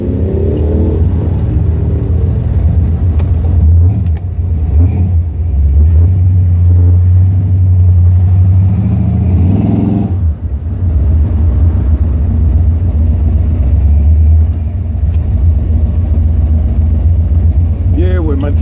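A 1972 Buick Skylark's 455 V8 at a drag strip, a loud, close, steady engine rumble that swells with revving throughout, while people talk over it.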